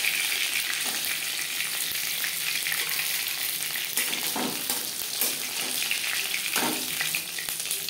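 Fish coated in masoor dal fries in hot oil, a steady close sizzle with occasional louder crackles and spits and no talking.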